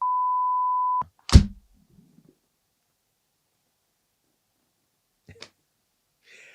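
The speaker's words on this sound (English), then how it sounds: "beep this out, Johnny." A single steady censor beep sounds for about a second, followed by a sharp thump and a few faint scattered noises in near silence.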